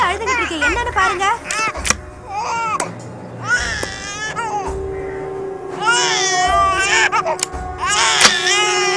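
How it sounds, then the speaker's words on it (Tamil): A baby cries in repeated rising and falling wails, loud and close, broken by short pauses and mixed with adult voices speaking in a Tamil film scene. "என்னங்க குழந்தை அழுதுகிட்டு இருக்கு, என்னன்னு பாருங்க."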